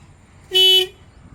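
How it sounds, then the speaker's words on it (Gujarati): A Mahindra 295 tractor horn gives one short, loud honk of about a third of a second, sounding alone against a faint background. "હોર્ન પણ ચાલુ છે"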